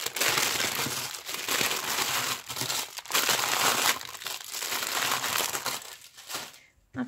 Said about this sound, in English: I'm sorry for the crinkling.